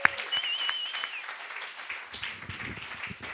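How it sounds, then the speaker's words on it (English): Audience applause at the close of an evening of short live talks, a dense steady clapping from a crowd that carries on throughout at moderate loudness. "If we can get one more round of applause for all the fantastic talks this evening"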